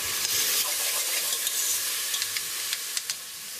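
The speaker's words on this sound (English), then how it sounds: "Start frying straight away. It's lovely, I love that sound." Steady crackling sizzle of food frying in a hot pan, with scattered small pops, close up and without voices.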